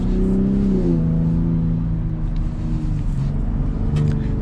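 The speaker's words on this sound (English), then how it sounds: "Get back up to some speed and sport mode exhaust." A Ford Raptor pickup's exhaust in sport mode accelerates on the road, a loud steady engine drone rising in pitch early on and then holding a strong even roar.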